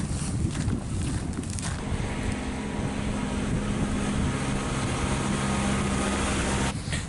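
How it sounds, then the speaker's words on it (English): Icy wind blows in off the Baltic through tunnels in Helsinki, a loud, continuous buffeting roar with gusts hitting the microphone. "The icy wind just blasts in from the Baltic and comes through these tunnels and freezes you to the bone."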